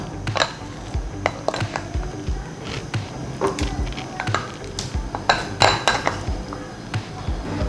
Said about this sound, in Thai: คนให้พริกแกงละลายนะคะ